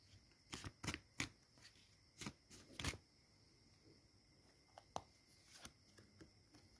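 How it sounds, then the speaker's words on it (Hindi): Tarot cards are shuffled and drawn during a Hindi tarot reading, several crisp riffling flicks in quick succession followed by fainter card slides and taps, close and quiet with no talk. "और कार्ड निकालते हैं हम"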